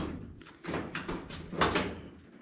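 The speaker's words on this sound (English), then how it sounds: "you can actually shut the door while you're getting out, and you can just like shut it and it'll shut" A car's driver-side door being shut from the seat while getting out, giving a few dull knocking thumps of moderate loudness close by, with no talk over them.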